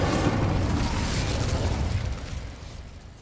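An Incendio fire spell in Hogwarts Legacy bursts in a loud, broad whoosh of flame that roars at once and slowly fades over a few seconds.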